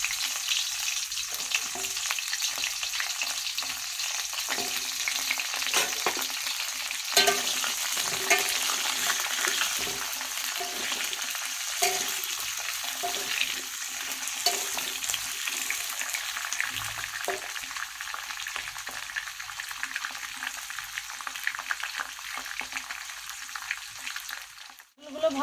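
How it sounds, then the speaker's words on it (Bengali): Pointed gourd pieces fry in oil in a pan, a steady crackling sizzle with scattered pops and occasional stirring scrapes, no talking. "পটলগুলো ভাজা ভাজা হয়ে এসছে, এবার একটু নড়িয়ে তারপর বার করে নেব"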